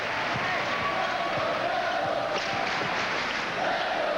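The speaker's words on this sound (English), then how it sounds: "Sounds a little bit more like a Duke crowd right now" Duke student crowd at a Wake Forest versus Duke college basketball game, a steady loud roar of cheering filling the arena throughout, with faint ball bounces and squeaks underneath.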